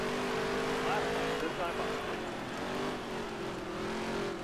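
Race car engine in the NASCAR game Nascar Heat 3, a steady droning hum with slight pitch shifts as the car holds speed, continuous throughout and partly under a speaking voice.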